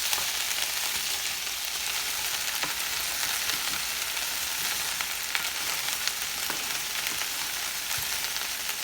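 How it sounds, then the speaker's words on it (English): Smothered okra with shrimp sizzles in a pot as it is stirred, a continuous close frying hiss with occasional light scrapes and ticks and no speech. "I'm only stirring enough so as for it not to burn on the bottom"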